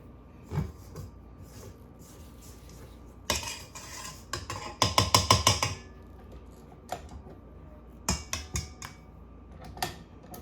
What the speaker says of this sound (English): make sure you scrape the edges of the bowl